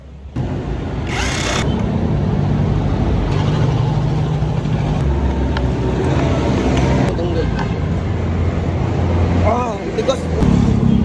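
A Honda Beat FI scooter engine that had stopped starting is cranked and runs, a loud, steady mechanical drone filling the clip with brief rises and rattles, while people talk nearby.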